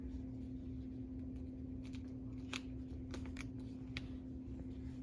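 Scissors snip through medical tape while an nasogastric tube is being secured, a few short, crisp cuts and rustles standing out over a steady electrical hum.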